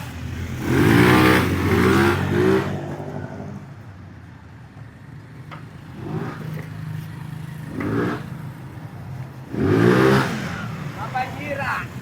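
A motorcycle engine with a stock exhaust pipe and stock carburetor revs in several loud, close bursts, rising sharply and dropping back to a rough idle between throttle blips.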